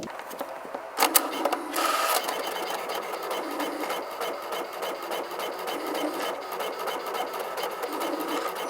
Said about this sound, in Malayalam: ഇപ്പോൾ ബ്ലാക്ക് ആൻഡ് വൈറ്റ് പ്രിന്റാണ് നമ്മൾ എടുക്കാൻ പോകുന്നത്.